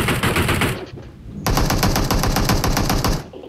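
Automatic gunfire in the battle royale game PUBG, loud close rapid bursts broken by a short pause, then a longer sustained volley that cuts off near the end.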